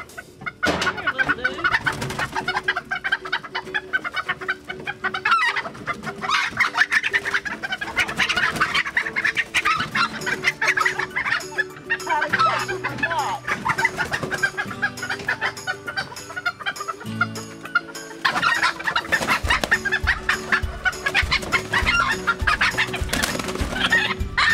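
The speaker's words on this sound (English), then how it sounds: "bantam chicken." Bantam chickens cluck and squawk in a pen, a dense, busy chorus of close, loud bird calls running throughout with no talking.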